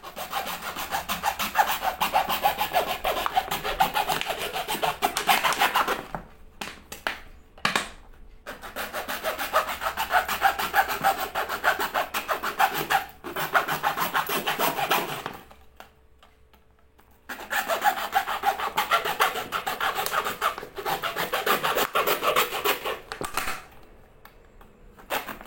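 A hand saw cuts through PVC pipe in long stretches of fast, rasping back-and-forth strokes, close and fairly loud. Brief pauses break up the cutting before it resumes.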